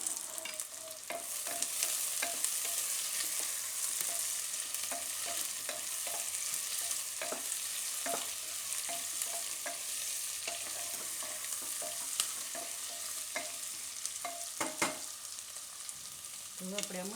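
Carrots and red, green and yellow capsicum cooking in a pan for pasta, with steady sizzling and repeated clicks and scrapes of stirring throughout, close and fairly loud, no talking.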